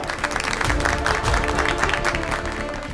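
A crowd claps steadily, a dense burst of applause with some cheering mixed in.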